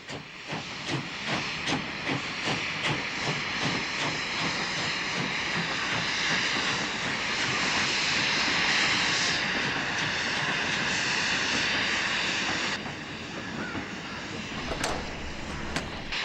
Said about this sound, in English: A J37 64541 pulls a rake of empties up from the mill.